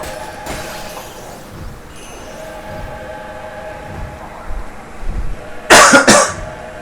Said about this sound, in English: Really like to be able to talk more than 20 seconds without coughing.